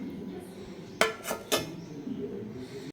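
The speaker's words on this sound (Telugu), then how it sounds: "దీన్ని మూత పెడదాం." A lid is set on a metal pot holding soaking flattened rice batter in a kitchen, giving three quick, close metallic clinks in succession, followed by faint rattling.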